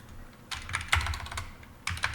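A computer keyboard shortcut is pressed, a quick cluster of close, crisp key clicks with a brief pause before a final pair of taps.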